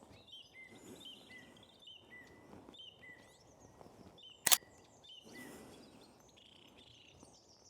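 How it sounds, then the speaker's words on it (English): Birds sing on a morning in a UK marsh, repeated bright chirps and short whistled phrases from several birds near and far, with one sharp loud snap partway through. "Literally all I can hear is the birds singing away"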